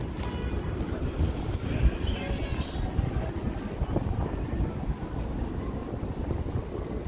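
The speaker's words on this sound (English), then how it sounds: "it's fairly windy. If it's intolerable, the wind noise, because I don't have a lav mic out" Steady wind buffeting an outdoor microphone on a breezy night in Las Vegas, a continuous low rumbling roar that persists throughout, with faint background noise above it.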